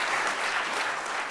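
A congregation at a confirmation Mass breaks into steady applause, a dense wash of many hands clapping at close range that holds evenly throughout.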